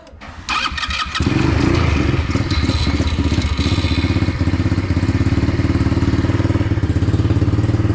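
Small engine catching after a few cranks, settling into a loud steady rhythmic chugging idle that runs continuously and close by.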